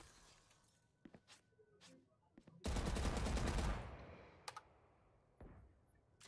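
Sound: gunfire in the video game Valorant

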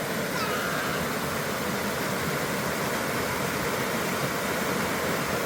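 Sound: flowing stream where a child plays in the water

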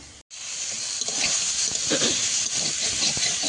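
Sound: water added to hot pan of okra and prawns, hissing

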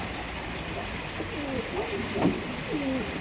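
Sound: pet birds cooing

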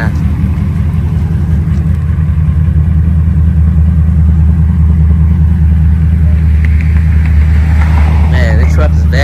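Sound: supercharged Ford Lightning truck engine driving on test drive

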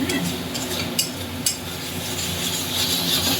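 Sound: stirring spiced potatoes in a kadai

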